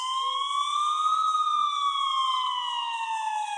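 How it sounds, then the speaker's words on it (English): A police siren wails in the distance in one long, steady tone that slowly rises and then falls. It keeps going for the whole stretch and is fairly clear, with no talking. "I finally heard sirens in the distance"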